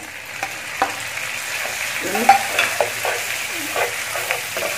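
Goat brain sizzles and crackles in a hot pan while being stirred with a few scraping clinks, close up and steady, no talking.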